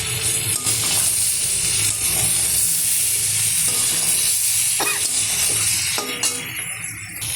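Boiled elephant foot yam frying with prawns in a pan: a constant, close sizzle and hiss broken by scraping stirs and a few light clinks, with no talking.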